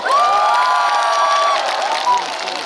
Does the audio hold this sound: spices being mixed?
no